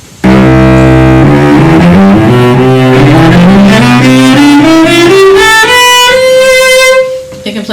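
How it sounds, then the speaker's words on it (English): A cello plays a slow series of sustained, resonant bowed notes that climb steadily upward in pitch, loud and close, with no talking over it. "This instrument is called the cello."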